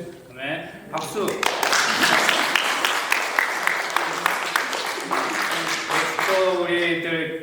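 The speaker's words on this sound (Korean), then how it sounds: "네, 박수." Church congregation applauding during a worship service, a loud sustained burst of clapping, with singing and voices under and around it at the start and end.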